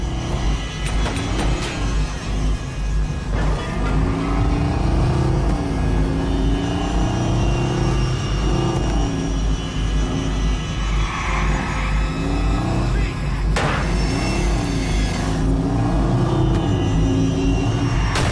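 A car engine roars steadily in the video game Watch Dogs as the vehicle pulls away, a loud, continuous rumbling drone that holds for the whole stretch with shifting pitch and no speech.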